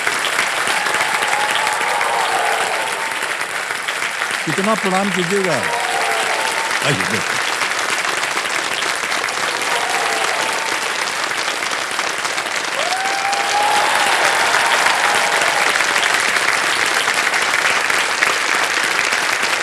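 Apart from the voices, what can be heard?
studio audience applause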